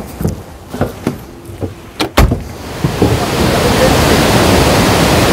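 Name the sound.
river water rushing where Rideau meets Ottawa River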